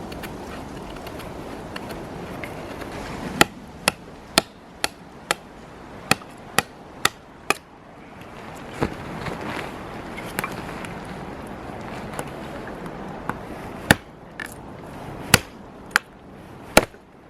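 An Ontario Woodsman bushcraft knife chops into wood in a series of sharp, close, distinct strikes, sometimes in quick runs and sometimes spaced apart, over soft background rustling.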